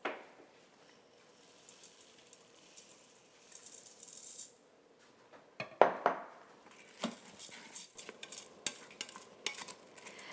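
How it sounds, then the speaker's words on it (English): Rice sautéing in a pan with vegetables and spices for spinach coconut rice: a soft, steady sizzle, then stirring and scraping rattles with occasional clinks of a utensil on the pan. "I'm letting the rice saute with the vegetables and spices."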